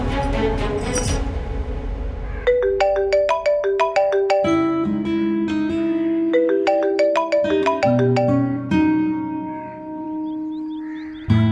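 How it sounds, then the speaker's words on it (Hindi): A phone ringtone plays a bright, repeating melodic tune loudly and alone for several seconds, its notes stepping in a steady pattern before cutting off. "उठाओ फोन।"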